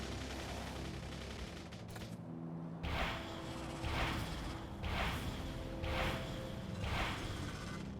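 Rapid bursts of gunfire in Factorio, the game's weapons firing in a steady rhythm of about five evenly spaced volleys over a dense, continuous backdrop of mechanical in-game noise.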